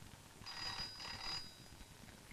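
A landline telephone rings indoors in two quick electronic trills, fairly faint, with no talking.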